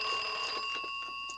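An old 1950s telephone rings with a steady, sustained electronic-sounding tone for just over a second, fairly close and alone.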